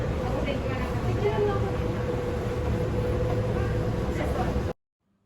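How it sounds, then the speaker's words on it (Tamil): Inside a car of the Palm Jumeirah monorail in Dubai, a steady low rumble and hum of the train runs continuously, moderately loud, before cutting off abruptly near the end. "ட்ரெயின் உள்ளால ஏறியாச்சு. இன்னும் கொஞ்சம் நேரத்தில் கிளம்ப போகுது."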